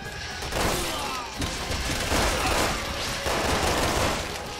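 Dense bursts of rapid automatic gunfire from the video game Resident Evil 6, loud and near, rattling continuously in overlapping volleys with no voice over it.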